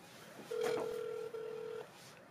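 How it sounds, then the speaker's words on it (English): A phone places a call to an arcade machine vendor, giving a single steady electronic tone with a brief break, then an outbound ringback signal, faint and clear with no speech. "Okay, I'm calling the vendor."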